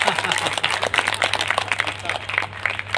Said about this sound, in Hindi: ताली तो मारो यार